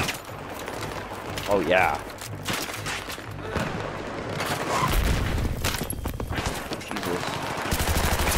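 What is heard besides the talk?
light machine gun fire in Battlefield 3 video game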